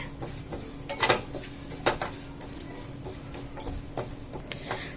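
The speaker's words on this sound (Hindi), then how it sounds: "अब हम इन मसालों को रोस्ट कर लेंगे।" Fenugreek seeds and other whole spices dry-roast in a pan over a medium flame, with scattered light clinks and scrapes of a utensil against metal over a dense, crackling hiss.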